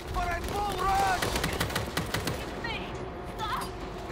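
An auto turret fires during a World War Z game session, a quick run of sharp shots that overlaps other game effects and background noise.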